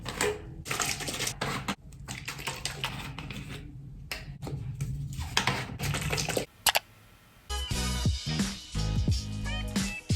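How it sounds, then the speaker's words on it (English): Water runs and splashes into plastic tie-dye squeeze bottles as they are filled, a steady rushing pour broken by brief pauses and handling clatter. "Right now, I'm going to fill my tie-dye bottles with water."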